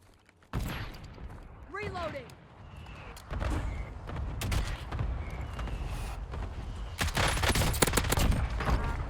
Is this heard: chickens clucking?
no